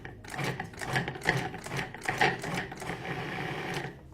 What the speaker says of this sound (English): And now I'm only gonna process this enough to get the coconut oil distributed in the dry ingredients